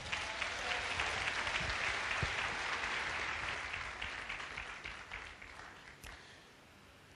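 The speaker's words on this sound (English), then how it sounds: "Give Jesus a clap offering." A church congregation applauds together during a sermon on marriage, steady sustained clapping that gradually fades out to silence.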